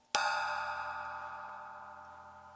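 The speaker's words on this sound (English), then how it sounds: "The shoulder is a darker sound." A single strike on the shoulder of a tiny cymbal produces a darker, gong-like metallic ring. The tone fades slowly over a couple of seconds.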